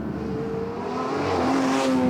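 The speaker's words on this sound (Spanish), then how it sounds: "el corte de inyección a 9000 vueltas" A 2024 Porsche 911 (992) GT3 Touring engine revs high against its 9000 rpm limiter, a steady strained mechanical wail that climbs slightly in pitch, heard moderately loud from inside the car.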